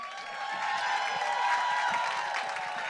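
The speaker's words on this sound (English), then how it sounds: "Give yourself a round of applause." An audience at a women's conference applauds, a steady, fairly loud wash of many hands clapping with a few scattered cheers mixed in.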